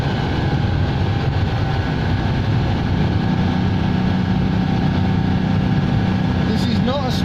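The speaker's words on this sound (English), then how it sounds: "This is not a smooth road I'm driving along" A Citroen 2CV with newly fitted shock absorbers driving along a rough road, its engine a steady, loud, close drone with a droning tonal hum throughout.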